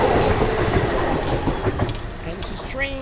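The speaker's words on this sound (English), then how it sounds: "And this is train 4910, Deadhead, Penn Station, Ronkonkoma Yard." An M3 commuter train rolls through Ronkonkoma on the Long Island Rail Road, with a loud rumbling clatter of wheels on track that fades as brief squeals and tones rise near the end.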